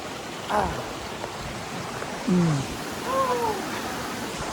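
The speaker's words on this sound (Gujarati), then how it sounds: "હાલો હાલો ભાઈ ફટાફટ વરસાદ આવ્યો." Rain falls on a hillside trail on Barda hill in Saurashtra, making a steady, even wash of hiss that runs the whole time. A few brief voices call out over it.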